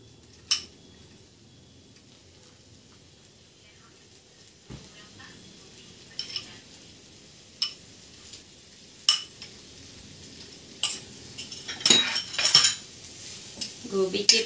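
Cabbage leaves being stirred in a frying pan on a home stove: sparse metal clinks and scrapes from a spoon against the pan, growing busier toward the end over faint background sound.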